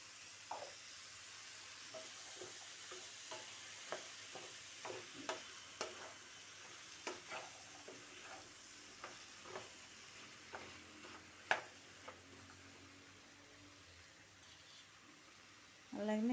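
Cut eggplant frying in a pan as it is stirred, a soft sizzling hiss broken by a steady series of sharp scraping clicks from the stirring, close and fairly quiet, with faint talk in the background.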